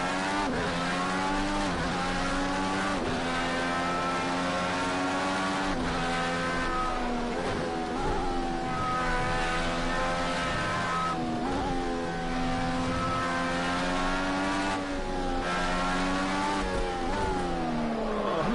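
A race car driving a lap in the video game Project Cars 2, engine revving loud and close through repeated upshifts and downshifts, with brief tire squeal.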